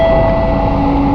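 An LRT Jabodebek light rail train slowing as it pulls into a station, heard from inside the car: a loud, continuous rumble with an electric motor whine that drops gradually in pitch.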